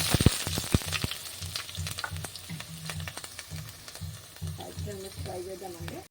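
Sliced onions, green chilies and curry leaves sizzling in hot oil in a kadai, a soft, close crackle and hiss with stirring scrapes, and a voice speaking faintly near the end.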